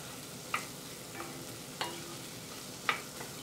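Diced hatch chilies are stirred into BBQ sauce, with a spoon scraping the pot in slow strokes and a low simmering sizzle, broken by three light metallic clicks.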